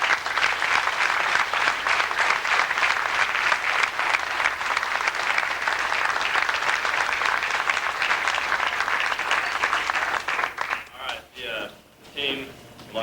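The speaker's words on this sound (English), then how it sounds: "I want to give these guys one more round of applause." A school crowd at a winter sports awards night gives the team another round of applause, sustained dense clapping that tapers off near the end, with a voice briefly speaking as it dies down.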